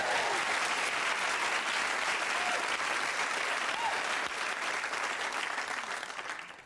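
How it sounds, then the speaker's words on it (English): A studio audience at a 1988 comedy Christmas special bursts into a big round of applause, full and sustained, thinning a little toward the end with faint voices underneath. "a big round of applause for the one and only, the fabulously talented Miss Sheila Horlicks"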